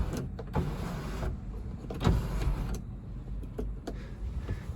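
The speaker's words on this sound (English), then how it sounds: "Moonroof operation." Moonroof motor in a 2015 Honda Civic EX-L running, a steady electric whir and hum inside the cabin, broken by a couple of faint clicks and knocks as the glass moves.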